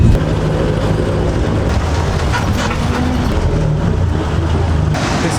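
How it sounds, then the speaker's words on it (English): A tuk-tuk ride in Thailand sounds as a dense, steady engine rumble and road roar heard from inside the vehicle, with rattling and wind noise throughout. "So we got a tuk-tuk for our resort."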